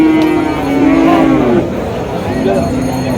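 Cattle moo repeatedly at a Bangladeshi cattle market selling bulls for Qurbani, long low calls rising over a busy crowd murmur with people talking nearby.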